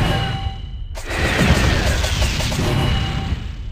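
Gunfire in the Sakura School Simulator game opens abruptly as a dense burst of shots and booms, then continues as steady noisy firing with crashes.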